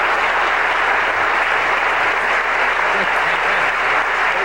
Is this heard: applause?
yes